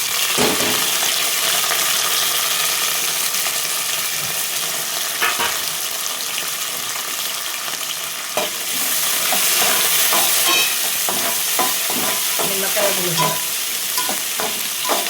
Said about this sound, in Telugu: పల్లీలు, పచ్చిమిర్చి, కలెమాకు ఇక వేగిపోయినాయి.